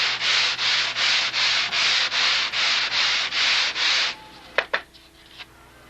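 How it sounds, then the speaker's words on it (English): Wood being sanded by hand on sticky back sandpaper, ten even rhythmic rasping strokes close by, then a few sharp knocks and quiet. "That's where that sticky back sandpaper comes in."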